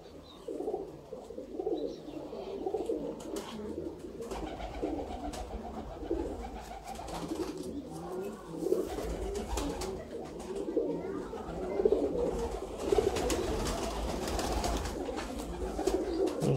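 Pigeons cooing in a loft, a soft continuous chorus of low burbling coos from several birds close by, with faint talk in the background.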